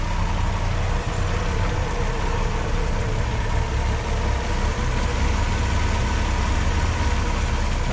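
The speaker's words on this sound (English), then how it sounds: "Nice, smooth running engine." A 1965 Ford Mustang engine idles smoothly with a steady, even low rumble, heard close and alone at a constant level.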